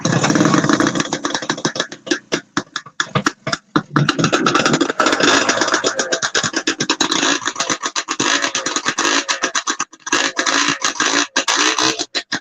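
A vintage snowmobile engine runs loud and close at a snowmobile show in Newport Center, Vermont, its rough broadband roar pulsing with sharp gaps and bursts as it revs and idles for the whole stretch.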